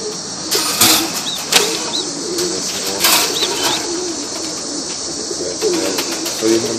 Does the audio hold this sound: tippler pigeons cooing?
yes